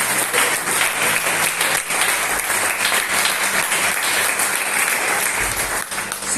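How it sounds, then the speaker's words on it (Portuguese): A church congregation applauds during a Sunday morning worship service, with steady, dense clapping that holds at a loud level from start to finish and has no pauses. "Você pode aplaudir ao Senhor?"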